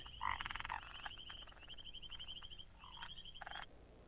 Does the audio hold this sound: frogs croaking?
yes